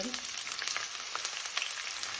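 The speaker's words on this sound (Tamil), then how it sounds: "இப்போ இந்த சட்டியை வச்சு இதுக்குள்ள இந்த வெங்காயத்தை போடுறேன்." Onions are dropped into oil in a pan and fry with a soft, steady sizzle, a faint hiss with light crackles throughout.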